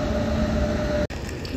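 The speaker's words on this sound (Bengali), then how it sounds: "একটা ট্রেন ঢুকছে এখনই আবার" A train pulls into a railway station, heard as a loud, steady mechanical rumble with a faint humming tone and a brief dropout near the end.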